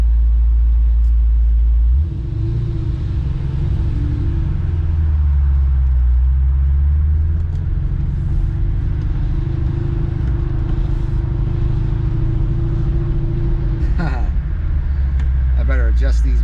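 A 2002 Corvette C5 Z06 starts rolling off with a deep, steady engine rumble that holds close and loud, with a brief rise in revs near the end; a person speaks over it.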